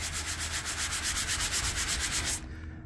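Hand rubbing chalky, powdery old white paint on a bridge, a steady close scratchy rubbing in quick repeated strokes for over two seconds, then stopping abruptly.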